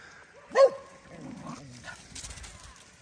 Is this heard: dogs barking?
yes